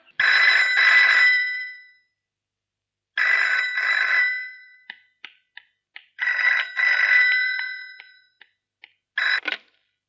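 A telephone rings in repeated bursts of electronic trilling separated by short pauses, with a few clicks between rings; no one speaks.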